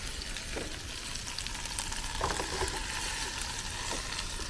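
Burgers and onions fry on an outdoor barbecue grill at an evening park gathering, giving a steady, moderately close sizzle with a few soft clicks from turning food, with no voices.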